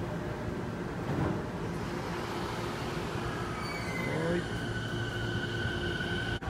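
Train rumbling at a platform of Kita-Asaka Station with wheels screeching and squealing, steady loud background noise, and a brief spoken word.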